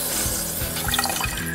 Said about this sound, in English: See, it's still leaking real bad,